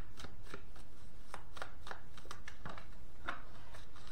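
Tarot cards being shuffled and drawn, with a run of crisp riffling flicks and soft slaps close by, some louder snaps standing out against a quiet room.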